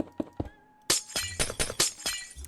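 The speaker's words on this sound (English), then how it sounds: "let's go on to ice and see if it's the same as glass." Ice block breaking in Minecraft, a glass-like shatter: a few light clicks, then a burst of bright crashes and tinkling breaks repeated in quick succession, loud and alone.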